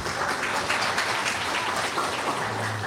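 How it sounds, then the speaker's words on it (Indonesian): An audience breaks into dense, steady applause at a gathering, a continuous wash of clapping from many hands that holds at an even level from start to finish, with no voices standing out. "Tepuk tangan yang meriah sekali lagi."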